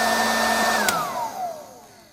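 A Salton popcorn maker is switched on and runs with a steady, close, loud whooshing hot-air blower hum, then clicks off and its motor winds down, the pitch sliding lower as it fades.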